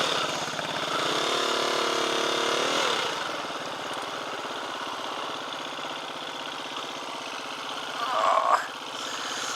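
A quad bike engine runs steadily at moderate loudness, idling and revving with a brief louder surge near the end, outdoors in desert terrain.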